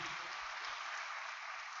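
Steady applause from an audience, a dense wash of clapping that holds evenly throughout with no talking over it.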